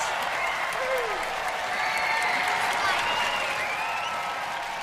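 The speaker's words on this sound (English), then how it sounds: "Give a round of applause." Sustained applause from a large Robot Wars arena audience, steady and loud throughout, with some cheering mixed in.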